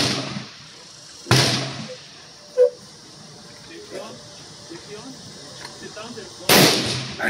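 A Savage Axis .308 rifle fitted with a tanker muzzle brake fires two loud, sharp shots several seconds apart, each a sudden broadband crack, with quiet outdoor background and brief small noises between them.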